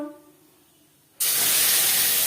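Cumin and dry red chillies hit hot oil for tempering for moong dal, bursting into a sudden loud, steady sizzling hiss after a second of near quiet.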